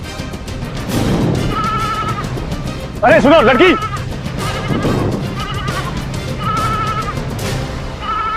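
A sheep gives one loud, wavering bleat close by, while people talk and other animal calls and background noise carry on around it.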